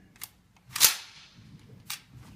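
The bolt of an M249 SAW machine gun rides forward as the cocking handle is pulled: a sharp, close metallic clack, with a lighter click just before and another just after, against near silence.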